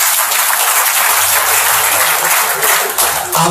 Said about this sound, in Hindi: बहुत जोरदार तालियां बजाएं।